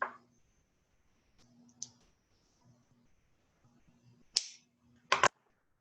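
Jewelry wire for earrings is trimmed with small cutters, giving a few sharp, quiet snips and clicks spaced apart, with a louder pair of cuts near the end against a faint hum.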